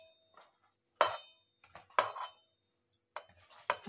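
Chopped cabbage, green chilli and coriander for mixed vegetable pakoda get stirred in a bowl, with several sharp clinks and scrapes of a utensil against the bowl separated by brief quiet gaps.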